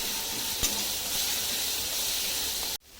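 A paste of coriander, ginger, garlic and green chili frying in hot oil gives a steady, close hiss with one brief clink near the start, cutting off abruptly at the end.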